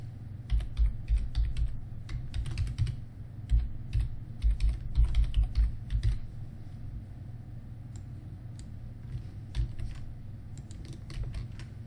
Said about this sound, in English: For policy name, type Linux Desktop Policy.